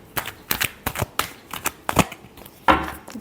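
Tarot cards being shuffled by hand in a series of short, crisp riffles and slaps, about a dozen close bursts with small pauses between them, ending in a fuller flutter.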